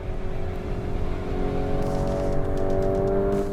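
A Lamborghini Urus SUV driven hard on a race track in Corsa mode gives a steady, loud engine drone heard from inside the cabin, holding a deep, even note with slight rises in revs and no talking.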